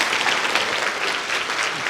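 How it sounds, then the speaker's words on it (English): An audience at a conference gathering claps steadily in a short, dense burst of applause. "how about a clap for Shoma for"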